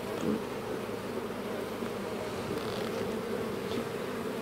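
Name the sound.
honeybees buzzing at an open hive in an apiary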